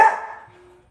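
A Doodle dog at play lets out a single sharp, close bark that quickly tails off into a fading echo.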